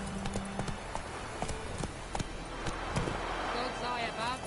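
Hooves of Roach, a horse in a video game, clip-clop in a steady rhythmic gait, close and distinct, while a voice speaks.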